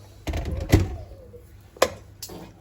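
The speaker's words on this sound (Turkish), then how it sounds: "Kapağını kapatayım." A lid is set onto a cooking pot in a home kitchen, giving a couple of dull knocks and clinks close by, with some soft handling noise between them.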